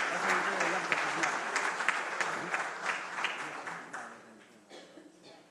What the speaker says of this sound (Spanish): Un aplauso, por favor, a cada uno de nuestros hermanos del Poder Judicial.